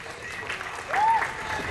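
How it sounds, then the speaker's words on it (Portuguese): A crowd at an Independence Day bicycle ride claps for one of the bicycles in a beauty contest, a short burst of applause that swells midway, with a brief whistle and a voice over it. "Palmas, gente."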